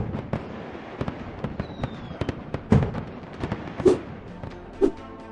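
New Year 2022 fireworks burst repeatedly at a distance: a dense run of sharp cracks and pops, with a few louder booms standing out near the end and a faint whistle early on.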